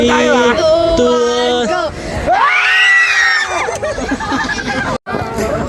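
A group of voices yells together loudly at close range, a sustained raucous shout with excited chatter and laughter around it.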